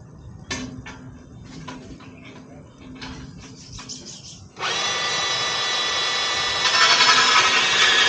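Makita cordless band saw cutting an aluminum rail, starting with clicks and handling taps before the motor whines into a steady, loud cut that grows harsher toward the end.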